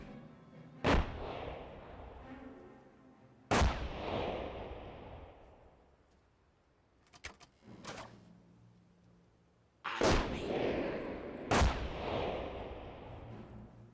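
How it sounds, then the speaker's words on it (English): Several heavy booms and gunshot-like blasts from the video game Company of Heroes go off at intervals, each trailing into a rumbling decay, with a short crackle of smaller shots in between. "So many explosions."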